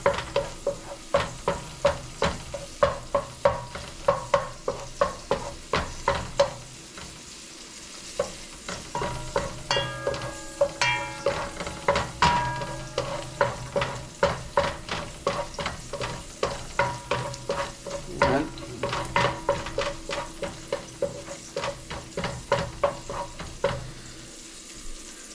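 Ingredients for Filipino chicken tinola are stir-fried in a pan, with a spatula scraping in a quick, steady rhythm over a continuous close sizzle and no talking.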